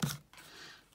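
Scissors trim a piece of material with one short, close snip followed by a faint rustle, in an otherwise quiet room.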